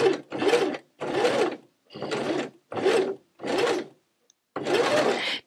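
A sewing machine stitches appliqué onto fabric in short, close bursts of rapid whirring, about seven runs separated by brief pauses where the fabric is repositioned, with no voices.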